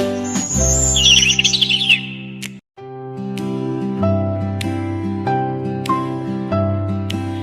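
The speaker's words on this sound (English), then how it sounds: "a bird will whistle" Bright whistled bird notes sound early on in a children's animal sounds song, over a full musical backing with a steady low bass line; the music continues after a brief dropout.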